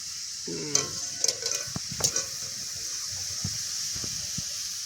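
Chini kathi sweets fry in a pan with a steady, soft sizzle and hiss, broken by a few brief stirring scrapes and clinks near the start.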